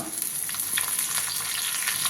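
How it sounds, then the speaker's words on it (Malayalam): Continuous crackling and sizzling of shallots, dried red chilies and curry leaves frying in hot oil, heard close and fairly loud, with small pops throughout. "ഇനി ഇതിലേക്ക് ചുവന്നുള്ളിയും വറ്റൽമുളകും കറിവേപ്പിലയും ഇട്ട് കൊടുക്കാം"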